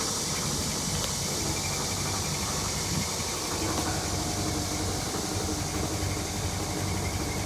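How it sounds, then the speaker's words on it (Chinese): An air conditioner compressor running with its casing cover removed gives a loud, steady droning hum, close up and unbroken, with a faint rattling vibration underneath. "已经听到压缩机启动了"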